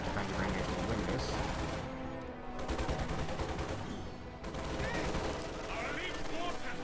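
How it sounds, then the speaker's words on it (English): MG-42 machine gun fire in the Company of Heroes 2 battle game, sustained rapid bursts with short pauses between them, mixed with other gunfire and battle noise, while a voice talks over it. "Now MG-42 suppressing the squad."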